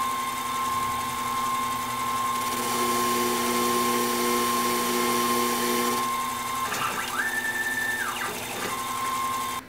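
A machine cutting a gear blank, taking a light pass off the diameter: a steady mechanical whine and hum with a sustained tone, holding even for the whole stretch with a brief shift in pitch near the end.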